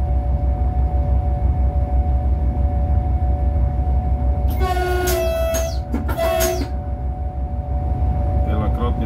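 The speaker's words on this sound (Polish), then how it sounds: "Wielokrotnie sygnał baczność." From the cab of a train between Iława Główna and Działdowo, the horn sounds several loud tonal blasts in quick succession over a steady rumble of the running train, with a shorter blast near the end.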